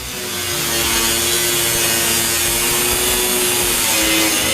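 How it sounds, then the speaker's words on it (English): A cutoff wheel grinds through 16 gauge steel sheet while a custom motorcycle seat pan is being made, a loud, steady abrasive whine and rasp rising at the start and holding throughout, close, with no talk. "I'm using a 16 gauge steel sheet, and I'll be cutting it out with the cutoff wheel"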